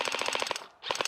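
Airsoft gun firing during an outdoor skirmish, a rapid burst of sharp clattering shots, a brief pause, then another quick burst, fairly close.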